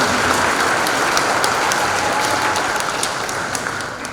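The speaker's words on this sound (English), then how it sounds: "let's give them a round of applause for all the work they've done" Audience applause at a school National Junior Honor Society induction ceremony, a steady dense clapping that holds at full strength for about four seconds and tapers only slightly at the end.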